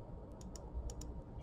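Quiet keystrokes tap on a computer keyboard in a few quick, irregular clicks, soft and close against low room hum.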